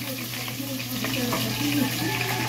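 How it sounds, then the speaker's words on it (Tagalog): Tomato, garlic, onion and ginger sautéing in hot oil in a non-stick pan make a steady, close sizzling hiss that holds level throughout, with a constant low hum underneath. "Pag maano na yung mantika natin, mainit na, lagay na natin yung ating kamatis, bawang, sibuyas at luya."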